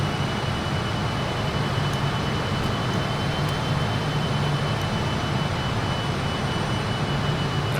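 Steady, dense roar of the rear-mounted jet engines on a Piedmont Airlines Fokker F28-4000 at raised climb thrust, heard from inside the cabin as a continuous low rumble and broadband hiss, unbroken and without talk.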